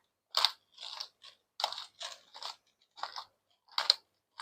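Peppercorns are crushed for a sweet potato sandwich in a series of close, sharp crunching bursts spaced irregularly, separated by near silence, with no voices.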